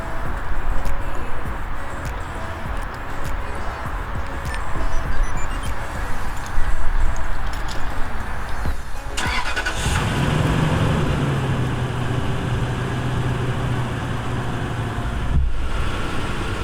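A Lexus GX470 engine, started by remote starter, cranks and catches, then settles into a steady idle that drops as it warms, all with constant background noise.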